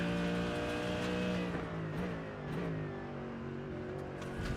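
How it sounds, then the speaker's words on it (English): A Mercedes race car in iRacing at Road America, its deep, throaty engine droning loud and steady, the pitch dipping and rising slightly as it shifts and revs. "hop on board with the Mercedes and its lovely, deep, throaty sound"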